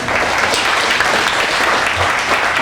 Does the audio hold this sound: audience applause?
yes